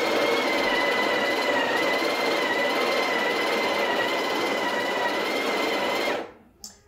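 A Breville Barista Express BES870 grinding coffee beans at grind size 10, a steady loud buzzing whir that runs for about six seconds and then cuts off abruptly.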